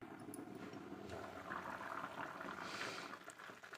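Steady bubbling of a pot of curry simmering on the stove, a continuous gurgling hiss with no voices.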